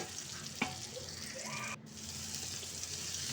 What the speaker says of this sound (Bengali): এরপর আমি এই মশলার সঙ্গে খুব ভালো করে ডিমটাকে কষিয়ে নেব।